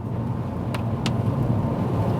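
A 2017/2018 Kia Rio 1.0 T-GDI 120 hp drives on rain-soaked streets in Portugal, giving a steady low cabin rumble under a constant hiss of tyres on wet road, with a couple of brief sharp ticks.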